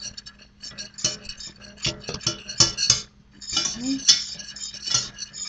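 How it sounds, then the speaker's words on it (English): Flour whisked into a mac and cheese sauce in a pot, with irregular metallic clinks and scrapes of the whisk against the pan coming in bursts and short pauses; a voice speaks briefly. "Kind of whisk it together."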